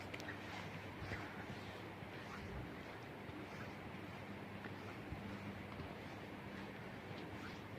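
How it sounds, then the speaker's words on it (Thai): Faint, steady rush of water flowing outdoors in Norway, broadband and continuous, with some wind noise blending in. "จะได้ยินเสียงน้ำไหลแล้วจ้ะ"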